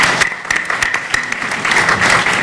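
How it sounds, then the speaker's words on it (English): Dense, steady applause from a town hall audience, loud and close, with a few sharper individual claps standing out from the continuous wash of hands. "Give yourselves a round of applause."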